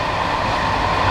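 A regular passenger train running from Fes to Marrakesh, stopping at all stations, rolls along the rails with a steady, continuous rumble and broadband rattle, close and even throughout, with no talk.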